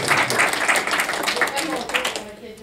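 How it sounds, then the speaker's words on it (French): Applause from a group at a French running, jumping and throwing athletics workshop, dense clapping throughout with voices mixed in beneath it, fading toward the end. "On l'applaudit."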